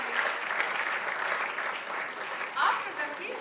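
Spectators at the ISSF Shooting World Cup in Bhopal, India, applaud after a shot in the 10 m air rifle men's final, a sustained, fairly distant clapping that swells near the end while a commentator talks over it.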